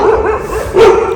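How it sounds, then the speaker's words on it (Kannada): A dog behind the speaker barks outdoors by a road, a short, loud, close yelp-like bark that rises briefly, alone without talk. "ಆ್ಯಕ್ಚುಲಿ ನಾಯಿ ತುಂಬ ಬೊಗಳ್ತಾಯಿತ್ತು ಹಿಂದ್ಗಡೆ"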